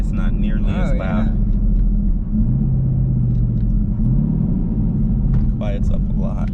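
Deep, steady rumble from a 600 hp supercharged Camaro SS running in touring mode in lower gears, a continuous low drone heard from inside the car with brief voices over it near the start and end.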